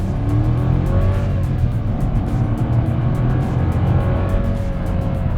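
Volkswagen Virtus Highline 200 TSI with a 1.0 three-cylinder turbo flex engine, heard from inside the cabin under acceleration: a steady, loud engine drone with rising harmonic tones for about five seconds, no talking.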